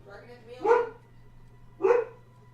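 House dog barking at a passing mailman: two loud, close single barks about a second apart, with quiet room hum between them.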